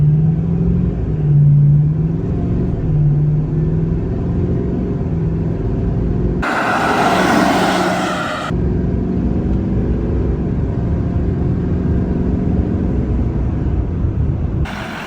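Duramax diesel pickup towing a trailer accelerates from 0 to 60 with a loud, steady engine drone and rumble, its pitch climbing early on, and a sharp rushing burst partway through.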